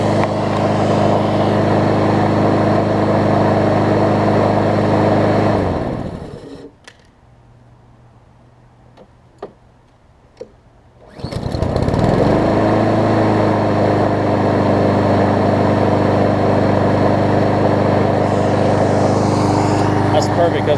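A Snapper push mower with a Honda engine runs at a steady loud drone, cuts out to near silence for a few seconds with some clicks, then starts back up and settles into its even roar; a voice talks briefly.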